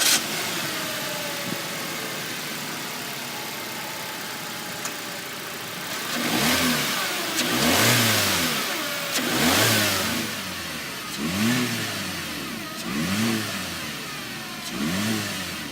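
A 2018 Chevrolet Spark with a 1.4 liter engine sits quiet at first, then revs repeatedly. Five or six loud, rising and falling bursts of engine noise come close together, with no voices.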